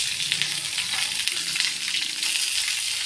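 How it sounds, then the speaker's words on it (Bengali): Fish fries in a pan with a steady, bright sizzle and crackle of hot oil, close and continuous, with no talking over it. "এটা মাছ ভাজি মোটামুটি কমপ্লিট, যতটুকু হয়েছে।"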